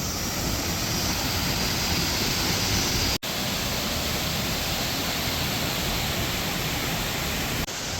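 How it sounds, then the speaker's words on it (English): Sendang waterfall on Lombok near Mount Rinjani, a dense steady roar of rushing water that fills the scene without letup, with a brief dropout partway through. "Behold, the Sendang waterfall."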